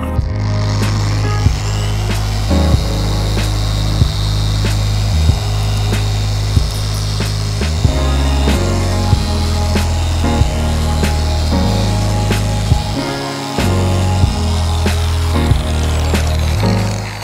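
A handheld machine polisher buffing a car's paintwork runs at a higher speed, giving a loud, steady motor drone with a low hum and brief dips in pitch, and no talking.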